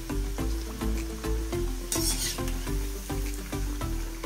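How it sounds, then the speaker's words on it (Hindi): Crispy Licious chicken supreme pieces frying in hot oil, a loud continuous sizzle and bubbling with a steady pulsing rhythm, close and with no talking. "वैसे हम बचे हुए 3 पीसेस को भी इसमें ऑयल में डाल के फ्राई कर लेंगे।"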